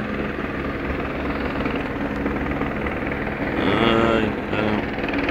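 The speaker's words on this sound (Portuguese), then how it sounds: "Tem barulho demais de helicóptero" A helicopter flies overhead during a police chase with gunfire, its steady rotor thrum loud and continuous, swelling briefly nearer before easing off, with voices faintly underneath.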